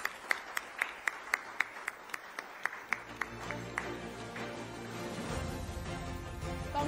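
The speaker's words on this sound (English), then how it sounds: "A huge round of applause, ladies and gentlemen, for Razia." An awards-ceremony audience gives a burst of crisp, evenly spaced claps at first, swelling into broader, denser applause that continues to the end.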